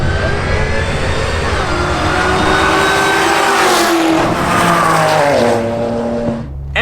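Cars drag racing on a no-prep eighth-mile track, one of them an HQ: a steady, loud engine roar with rising and falling revs and a hint of tire squeal, with no talk.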